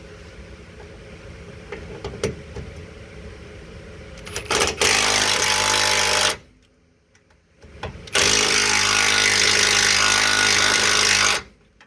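A power tool loosens the lower control arm bolts on a 2003-or-later Ford Crown Victoria, Grand Marquis or Lincoln Panther-platform car, in two loud sustained bursts of whirring and rattling with a short gap between them, preceded by lighter clanks.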